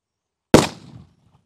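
One sharp Sivakasi firecracker bang, set off on a bike tyre, close and loud, followed by a brief crackling decay into silence.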